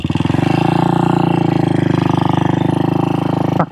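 A 1966 Royal Enfield 250 Continental GT single engine runs steadily and loud up close, a rapid even thumping pulse held throughout before cutting off at the end.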